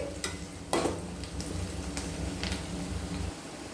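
Onions sauté in a pan for a cauliflower paneer gravy, giving a steady low sizzle with a few quick scraping stir strokes close by.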